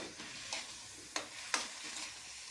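Chicken sautés in a pan with a soft, continuous sizzle and several brief scraping strokes of a spatula, fairly quiet and without talk.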